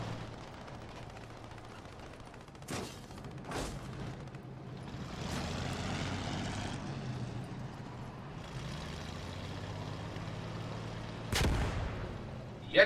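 Tank rumble and gunfire in the video game Post Scriptum, with a steady low engine drone and several loud, sharp booming shots, the last one close.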